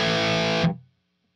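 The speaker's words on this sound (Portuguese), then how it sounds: "E esse som que a gente ouviu é o drive do seu Bogner." Electric guitar through the drive channel of a Bogner amp, one sustained distorted chord ringing loud and close, then cut off sharply into silence.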